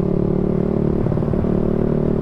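A motorcycle fitted with an aftermarket EV exhaust idles and revs close by, a dense steady rumble with a short burst of throttle in the middle.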